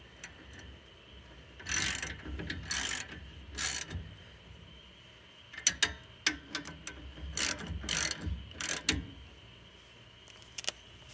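A ratchet and socket run down brake caliper bolts on a 2004 Dodge Ram 1500 during a pad and rotor job, giving quick rapid clicking bursts with short pauses, close and clear with no talk.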